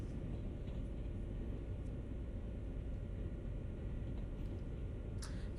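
An Amtrak train in the video game Train Sim World runs at speed with a steady, dense low rumble and continuous rolling noise, unbroken throughout and heard alone.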